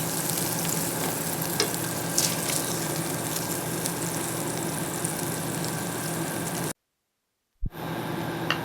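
Steak patties fry in a pan with a steady, dense sizzle, loud and continuous, then drop briefly to silence before the sizzling resumes.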